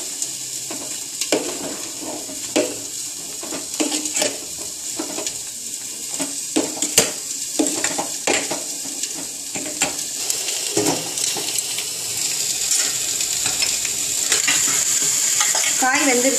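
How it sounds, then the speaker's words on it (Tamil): Vegetables for sambar cooking in a pot are stirred with a spoon, giving close scraping knocks and clinks over a steady bubbling sizzle that grows slightly fuller toward the end. "இப்போ நல்லா கிளறி மூடி வச்சிடணும்."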